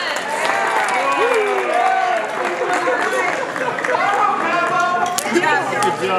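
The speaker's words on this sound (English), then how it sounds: "Everybody give him a round of" A crowd applauds and cheers after a Guinness record attempt at knocking quarters off ears with a yo-yo, with clapping mixed under lively shouting voices and chatter close by.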